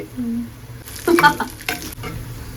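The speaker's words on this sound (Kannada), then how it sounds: "ಇದು ಇವಾಗ ಸ್ವಲ್ಪ ಡೀಪ್ ಫ್ರೈ ಆಗಬೇಕು." Bonda deep-fry in hot oil, a close, steady sizzle with a brief burst of louder crackling and stirring in the middle.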